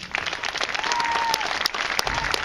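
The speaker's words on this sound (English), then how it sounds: "so give them a round of applause." Audience applauding a band program's executive board, loud continuous clapping with sharp individual claps and a whistle rising briefly above the crowd.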